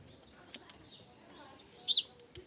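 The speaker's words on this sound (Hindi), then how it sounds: "चिड़ियाओं के लिए दाना रखते हैं, चावल वगैरह, और ये उनको खाने के लिए आ जाते हैं यहाँ पे।" Small birds coming to peck at rice grains in a village courtyard, with a brief burst of wing flapping near the end over a faint, quiet background with a few light ticks.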